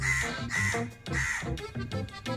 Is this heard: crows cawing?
yes